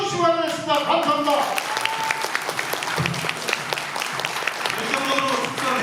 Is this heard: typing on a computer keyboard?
no